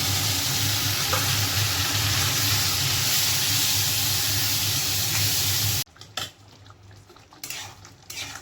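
Onion, tomato and spice paste seasoned with chilli, turmeric, cumin, coriander and salt fries loudly in a pan with a dense, close, continuous sizzle, then cuts off abruptly to quieter clinks and stirring.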